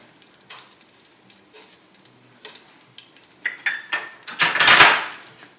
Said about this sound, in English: I'm going to add these red dried chilies